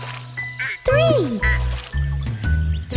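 A voice imitates a mother duck's quacking in a children's nursery song, with a quick series of quacks sung over bouncy music.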